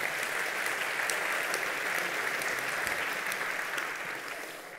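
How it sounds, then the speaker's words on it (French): Applause from a tech conference audience at DevFest Nantes: dense, steady clapping from many hands that holds at an even level for about five seconds before easing slightly at the end. "On applaudit"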